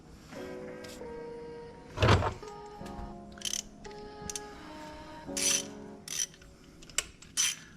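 A ratcheting wrench tightens the oil drain plug on an Audi Q7, giving clicking and clunking mechanical sounds in short bursts with gaps, close and moderately loud, without talking.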